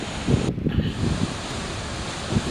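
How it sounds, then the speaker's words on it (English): Waterfalls at Nieuwoudtville heard from a distance as a steady broadband rush, blended with wind noise buffeting the microphone and no voices. "We can hear the waterfalls sound from here."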